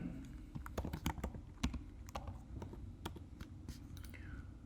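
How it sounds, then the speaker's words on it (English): Soft, irregular keystrokes tap on a computer keyboard as an ID is entered. The clicks are quiet and close, in uneven little bursts with no voices. "Here, we will type in an ID"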